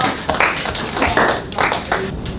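A few people clapping in church, uneven clusters of claps close by in a small room, rising and fading in short bursts.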